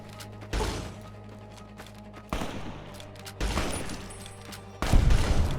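Plasma weapon shots in Fallout, four heavy blasts spaced a second or more apart, each with a sharp, loud onset and a rumbling tail, sounding close over a quiet background hum.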